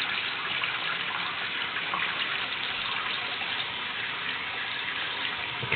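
Tap water runs steadily into an upturned egg-shaped water jug, a continuous rushing fill with no talking, fairly close and even in level throughout.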